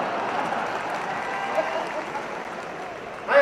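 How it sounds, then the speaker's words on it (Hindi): An audience claps continuously, a dense rustling wash of applause, while a voice talks over it and the clapping swells briefly near the end. "कहते हैं सिद्धू कहता है ताली ठोको, ताली अपने आप ठोकेगी, देखो।"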